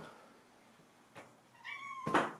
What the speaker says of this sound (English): She's sitting at the door meowing at me